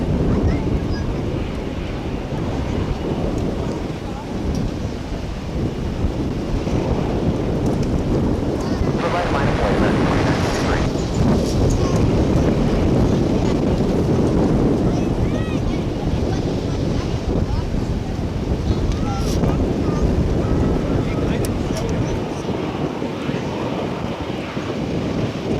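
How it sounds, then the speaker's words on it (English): Strong gusting wind buffets an open microphone at a Dallas–Fort Worth airport plane-spotting spot, a steady loud roar filling the whole stretch with brief bursts of hiss and no clear voices. "You can hear the wind whipping up."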